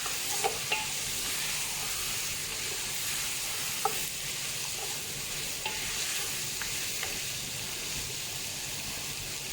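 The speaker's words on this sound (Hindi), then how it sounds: "फिर हम डालेंगे साबुत धनिया और ज़ीरा, लीजिए इसको भी मिक्स कर दिया।" Whole coriander seeds and cumin sizzle in hot oil, an even, steady hiss with a few faint spoon clicks as the spices are stirred through.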